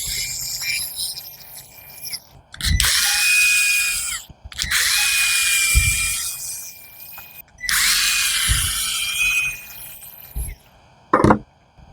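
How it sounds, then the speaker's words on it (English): A power drill removes screws from a Talon AT33352 line trimmer housing, running in three sustained bursts with loud whirring and pauses between, followed by a short sharp burst near the end. "So to replace the primer bulb, just simply remove these 4 screws."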